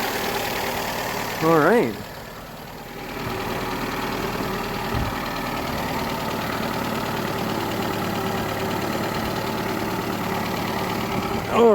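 A rebuilt spare-parts engine in a 2002 Saturn SC2 idles steadily with a constant mid-pitched hum and a faint knock. Someone speaks briefly over it near the start and again at the end.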